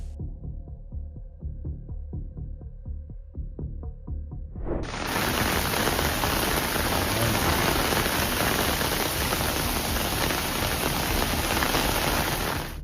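Unusually heavy rain showers pour down in eastern Sendai, Japan, causing widespread flooding. A dense, loud, continuous roar of downpour follows a few seconds of unrelated pulsing tonal sound.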